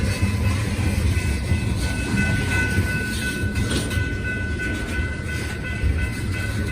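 Train rolling past up close, a steady loud rumble of railcars with broad noise and faint metallic ringing tones throughout, no voices.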